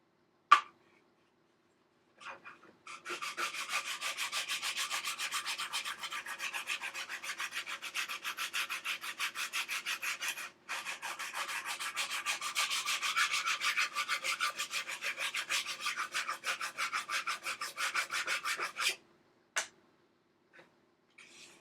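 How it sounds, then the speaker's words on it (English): Steady rhythmic rasping of a sanding block rubbed back and forth over the wooden frames of a model ship hull, close up, running continuously with a brief pause midway and no talking. "That sands the frames down real well."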